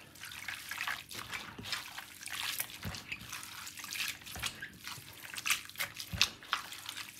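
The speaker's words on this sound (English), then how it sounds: "So you want to make sure you wash it off good again. So I'm giving it one more wash." Sea moss is rinsed under running water, a continuous close splashing and trickling with irregular surges as it is handled, with no talking.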